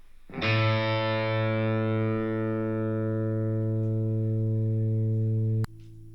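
A single sustained electric guitar note with a deep, bass-like effected tone rings out steadily for several seconds, then cuts off abruptly.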